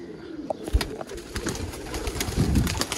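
Pigeons coo in a low, rolling murmur close by, several birds overlapping against faint background noise.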